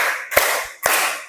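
Hand claps in a counted clapping exercise: two sharp, close claps spaced about half a second apart, each with a short ringing tail, plus a softer tap between them.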